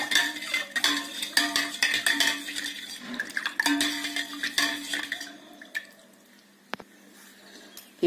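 Buttermilk with tempering and chopped coriander leaves being stirred in a pot, with repeated close metallic clinks of a spoon against the pot and liquid swishing, easing off toward the end; no one talks.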